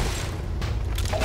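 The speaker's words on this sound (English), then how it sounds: "We gotta do it the old-fashioned way by chucking a fucking grenade in." A grenade in the video game Entropy Zero 2 bursts in a deep, close boom with a rumbling low-end tail and brief crackling debris.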